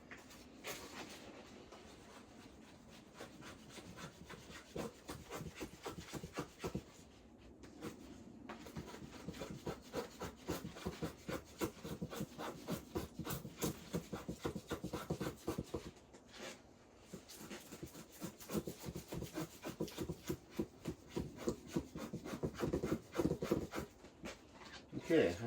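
Wood being scraped and shaved into small shavings for fire prep at a winter camp during heavy snowfall, giving a steady run of close, rough rasping strokes with brief pauses, fairly loud throughout.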